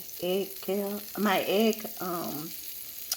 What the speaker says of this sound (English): I have my butter in the skillet. So now, sizzling